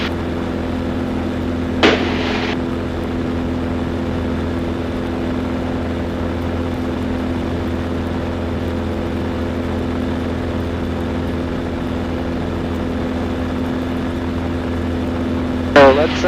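A Zenith STOL CH 750 Super Duty light airplane in flight gives a steady, unbroken engine drone that holds evenly throughout, with brief clicks near the start and end.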